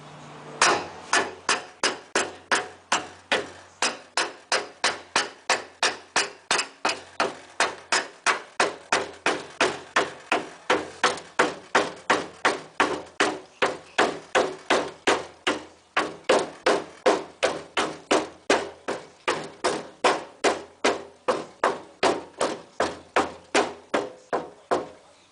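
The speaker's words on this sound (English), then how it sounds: "take a rubber mallet and pound these in" Rubber mallet pounding a Jeep Cherokee XJ fender during a cut-and-fold job, steady repeated blows at a regular rhythm, dozens of close, solid thuds continuing alone throughout.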